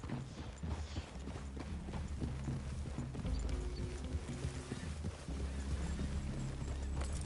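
Hooves clip-clop at a walking pace over a low rumbling background, several horses moving steadily in the video game Red Dead, moderately close.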